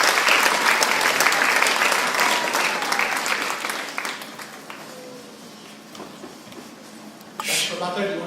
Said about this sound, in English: Ladies and gentlemen, applause.